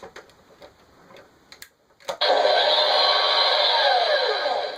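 A toy X-Men X-Jet's cockpit opens with a few soft clicks and ticks, then a sudden electronic whooshing hiss that holds steady and loud for a few seconds.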